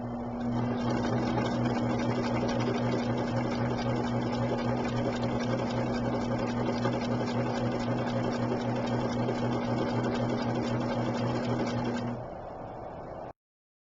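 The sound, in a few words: sewing machine stitching quilt block pieces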